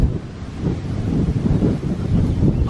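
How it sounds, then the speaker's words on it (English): Strong wind gusts buffet open countryside, a loud, continuous roar with rumbling low-end pulses as the gusts rise and fall close to the microphone. "Can you hear the wind as well? It's really windy."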